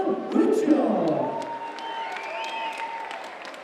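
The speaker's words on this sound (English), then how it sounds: "a big round of applause for Daniel Weichel" Crowd at a Bellator mixed martial arts event applauds and cheers for a fighter, with whoops and shouts over clapping that swells briefly, then settles into a lighter, steady wash.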